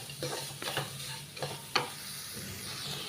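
A coconut laddu mixture is stirred in a pan, with quiet scraping strokes every half second or so over a faint sizzle and one sharp clink partway through.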